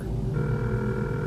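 A phone rings steadily after a number is dialed in the video game Batman Arkham Shadow, a continuous electronic ringing tone over a low background hum, with no talking.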